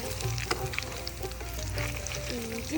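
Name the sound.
flattened rice (chira) frying in oil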